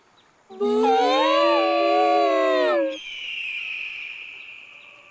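Voices imitate the calls of a fearsome wild animal and a bird: one long, loud, wavering howl-like cry lasts about two seconds, then a thinner, steady whistling tone follows and fades, close and alone.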